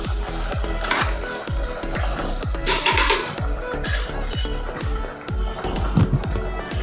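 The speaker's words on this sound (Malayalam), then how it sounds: "അപ്പോൾ നമ്മൾ കട്ട്ലേറ്റ് പൊരിച്ചെടുക്കാൻ പോകും കേട്ടോ." Cutlets frying in homemade coconut oil in a pan, a steady close sizzle with regular stirring and scraping strokes and occasional clinks of utensil on metal.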